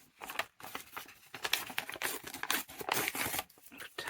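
Bright green paper is torn by hand into a leaf shape. Short, soft ripping and crinkling sounds come in several quick bursts, close by, with no talking.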